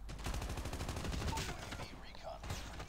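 Rapid bursts of automatic gunfire in Call of Duty Mobile, a dense rattling volley of close shots running almost the whole stretch, tapering briefly near the end.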